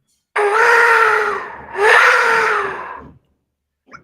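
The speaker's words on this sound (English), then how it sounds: "I have to make the Jaguar scream." A jaguar scream sample played during a beat-making stream: two long, strained, harmonic screams in a row, the second rising and then fading, followed by silence and a faint brief noise at the end.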